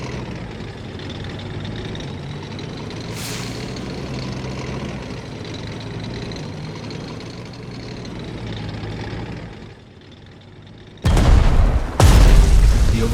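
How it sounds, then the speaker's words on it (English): Tank attacking enemy artillery in the strategy game Strategic Mind: The Pacific, with a steady rumbling battle bed followed near the end by two loud, close explosion bursts. "Select the tank and attack the enemy artillery"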